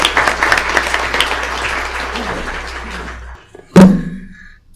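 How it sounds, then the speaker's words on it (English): Audience applause at a school board meeting, steady clapping filling the room for about three seconds before stopping abruptly, followed by a single sharp thump like a door or object knocking. "Please join us in applauding these staff members for their assistance this evening."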